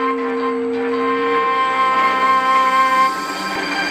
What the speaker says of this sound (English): Hank blew the longest and loudest whistle.